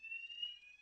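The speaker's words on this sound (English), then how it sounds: "it's a fire alarm." A fire alarm sounds during an online mathematics class, giving a steady, piercing high electronic tone that holds continuously and fairly quietly, as if from another room, with no talk over it.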